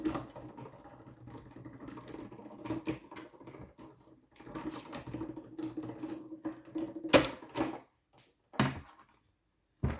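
A hand-cranked die-cutting machine pressing paper between plates to cut autumn leaf shapes, giving a steady grinding, rolling mechanical run with clicks and creaks, close by, ending in a few separate knocks.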